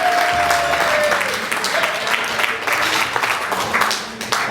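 Guests at a wedding reception applaud the father of the bride, a loud, full burst of clapping that carries on steadily and tapers near the end, with voices faintly mixed in.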